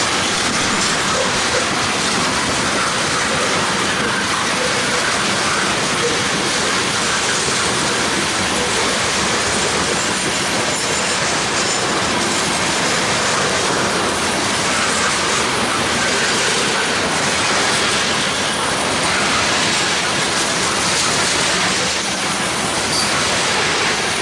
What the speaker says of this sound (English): As the loaded grain continues on through town